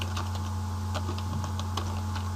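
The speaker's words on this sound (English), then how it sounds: "let's type it in again" Keys on a computer keyboard clatter in quick, irregular taps over a steady low electrical hum, close and moderately loud, with no talking.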